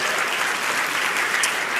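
Audience applause at a keynote event on building community and connection, a dense, even wash of clapping that carries on without a break for a couple of seconds.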